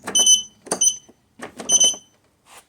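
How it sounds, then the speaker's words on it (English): An electronic sensor on the handle of a 16x trolley beeps as the handle is lifted, giving a few loud, clipped high-pitched beeps in separate bursts with short pauses between. "So as I'm lifting the handle, it would go beep beep"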